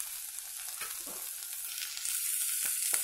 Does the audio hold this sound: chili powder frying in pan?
yes